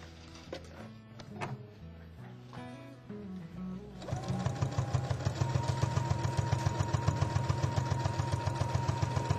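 A sewing machine stitching fabric for a fridge note holder starts about halfway through and settles into a steady, fast, close mechanical whir with rhythmic needle clatter. Softer handling and clicking sounds come before it starts.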